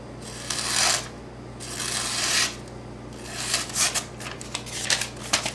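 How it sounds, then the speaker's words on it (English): An Ontario Utilitac II knife push cuts through material, giving close, dry scraping and rasping strokes in several bursts, quiet and without speech. "Let's push cut a little."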